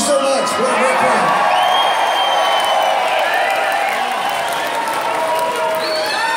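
Large live concert audience at a casino venue in Arizona cheering, whooping and applauding continuously after a rock band's set, a dense, loud wash of clapping and shouts throughout.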